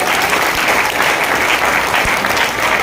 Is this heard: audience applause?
yes